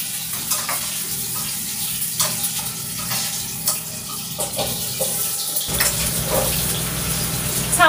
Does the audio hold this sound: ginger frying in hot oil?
yes